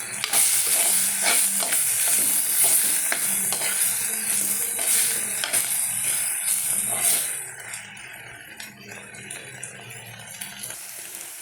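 Green peas boiled in a pressure cooker, sautéed in a pan on the stove, sizzle and scrape steadily under repeated stirring, then quieten after about seven seconds into a softer, sparser fry with no talking.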